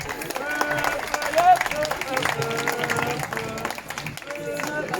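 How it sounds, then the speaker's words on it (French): Crowd at an open tennis tournament in Martinique applauding a player, steady clapping mixed with murmuring voices and some tonal background sound throughout. "Je vous demande d'applaudir Monsieur Yannick Tivan"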